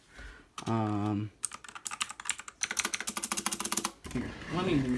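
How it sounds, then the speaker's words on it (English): Rapid clicky keystrokes from a VictSing tenkeyless mechanical keyboard with blue switches rattle up close in an uneven burst, with a person's voice heard briefly before and after the typing. "It is a 10 keyless keyboard with blue mechanical switches"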